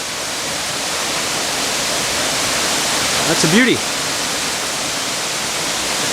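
Lower Doyles River Falls, a 63-foot waterfall in Shenandoah National Park, roaring as a loud, steady broadband rush throughout, with someone briefly speaking over it.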